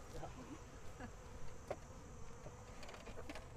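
Honeybees buzz in a steady, close swarm drone throughout a beehive inspection in September, with faint indistinct voices and light handling clicks under the hum.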